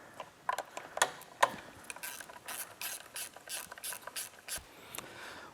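Ratchet wrench clicking in rapid bursts while tightening bolts on the chain bracket of a Kawasaki KLX 110 dirt bike, quiet and close, with a few sharper metallic taps between strokes.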